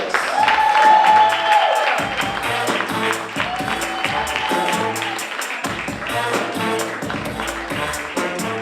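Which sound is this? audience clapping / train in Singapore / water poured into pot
audience clapping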